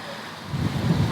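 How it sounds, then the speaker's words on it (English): Wind gusts outside a van at night, a faint rumbling buffet that swells louder partway through, with no voices. "It's getting windy out here."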